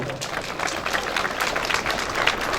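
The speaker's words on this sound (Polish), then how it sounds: "Brawa dla niego." A crowd at an anti-immigration street rally in Warsaw applauds outdoors, giving a steady wash of many hands clapping, moderately loud and diffuse, with no clear voices above it.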